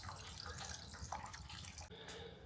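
Evapo-Rust drains out of a 1979 Triumph Bonneville 750 motorcycle fuel tank in a faint, continuous trickle of liquid, heard close up with no voices.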